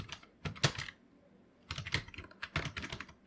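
Bursts of quick keystrokes on a computer keyboard while PHP code is typed, close and clicky, with a short pause between flurries.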